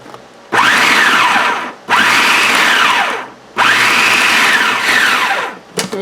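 A food processor chops fish fillets into a fish cake mixture in three loud, close whirring bursts with short pauses between them. The motor pitch rises and falls with each burst, and a brief clatter comes at the end.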